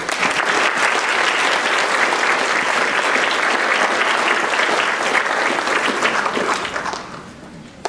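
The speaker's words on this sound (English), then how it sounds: "Let's have a round of applause for our homecoming committee." A large audience applauds the homecoming committee at a Miss Cinderella pageant final, dense sustained clapping close and loud that fades out near the end.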